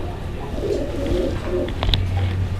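Racing pigeons coo softly at close range, a few low throaty coos rolling one after another with no speech.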